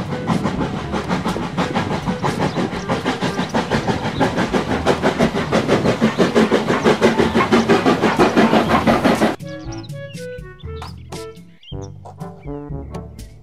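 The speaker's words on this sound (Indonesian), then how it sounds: "Kereta Thomas." A Thomas toy train rumbles and clatters rhythmically on the tracks, loud and close, then breaks into sparser clanks and squeals as it slows.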